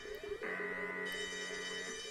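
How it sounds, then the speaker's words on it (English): Alarm ringing in the video game Rootless: Memories Of Green, a steady electronic tone with pulsing harmonics that sustains loudly and alone for the whole stretch, layered over a second repeating beep. "An alarm! But how? There weren't any alarm algorithms in the code."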